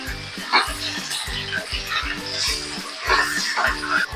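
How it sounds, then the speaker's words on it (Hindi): Chicken frying on high heat with ginger garlic paste and whole spices: a steady hiss and sizzle with rhythmic scraping stirs of a spoon throughout. "अब हम चिकन की अच्छी तरह से भुनाई करेंगे।"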